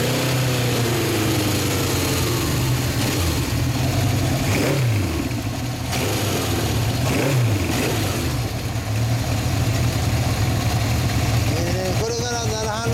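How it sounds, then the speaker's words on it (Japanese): A 1970 Honda Dream CB750 Four K1 four-cylinder motorcycle engine running close by, idling steadily with several throttle blips that rise and fall in pitch, and people talking over it. "CB エンジンかけてもらえますか？"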